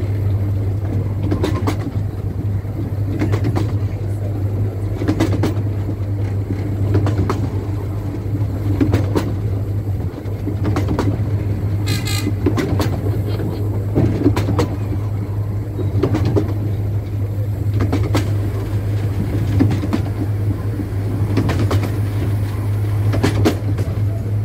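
Riding aboard a train on the Cleethorpes Coast Light Railway, a steady low rumble of wheels on track carries throughout, broken by repeated clacks and knocks from the carriage at an uneven rhythm.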